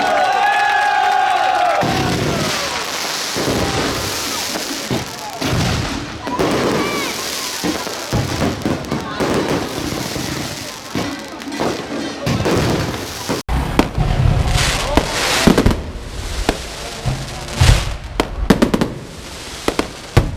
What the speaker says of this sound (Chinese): 因为我们等一下要释放烟火喽